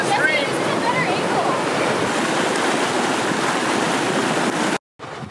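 Rushing water from a waterfall and stream at the top of a falls in Yosemite, a loud continuous roar and hiss close by with wind buffeting the microphone, cutting off abruptly near the end.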